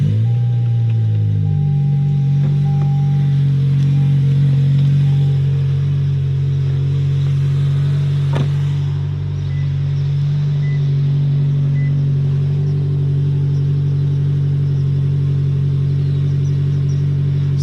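Toyota Corolla Hatchback with a 2J Racing catback exhaust on a cold start in a closed garage, a loud, deep steady rumble that sits high at first and then settles to an even idle drone.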